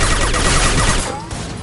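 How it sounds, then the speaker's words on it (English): Rapid automatic gunfire in a Mass Effect 2 firefight, loud and dense with bursts for most of the stretch before easing off near the end; no voices. "He's gunning down his own crew to keep control?"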